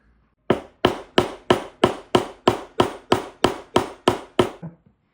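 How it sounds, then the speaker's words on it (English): Twelve sharp metallic hammer strikes on a stainless steel ring land in a steady, even rhythm, each ringing briefly before the next blow, loud and close with no talking. "We're going to hammer it and force it together."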